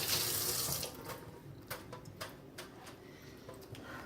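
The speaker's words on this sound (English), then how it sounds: "Just a good basic rinse." A running kitchen tap pours steadily as food is rinsed under it, with a loud flow that eases after a second and is followed by a few light clicks and splashes at the sink.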